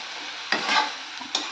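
Pieces of fried fish dropped into a pan of cauliflower fish curry and stirred, a soft sizzle broken by short bursts of scraping and spatula strokes.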